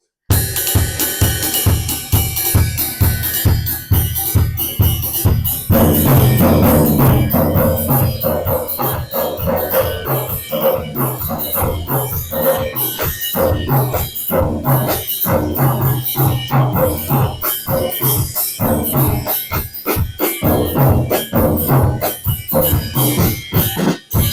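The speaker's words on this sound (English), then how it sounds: "it's a mixture and infusion of their native drum rhythms brought to the drum set" A drum kit plays the Asante Sichi rhythm from Ghana, with native drum patterns carried over to the set. Steady, dense hits run loud throughout, and the groove thickens after the first few seconds.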